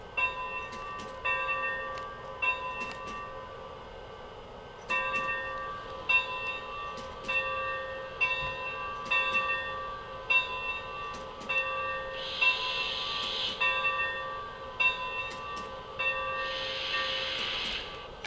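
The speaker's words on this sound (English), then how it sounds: "now we're going to hit the bell, which can be hit in one at a time" A Lionel Legacy Santa Fe 3751 model steam locomotive's bell rings repeatedly in a steady, evenly spaced rhythm over a continuous hum, with two bursts of hissing steam.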